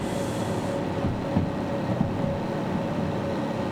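A locomotive in the Derail Valley train simulator gives a continuous low rumble with a steady mechanical hum, moderately loud and even throughout, with a couple of faint knocks and no voices.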